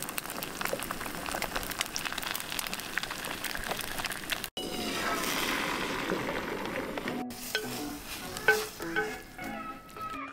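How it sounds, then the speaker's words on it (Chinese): Eggs frying in butter on a camping stove at a campsite near Mount Fuji, a soft steady sizzle broken by brief pauses and some handling clatter. "直接来煎蛋了"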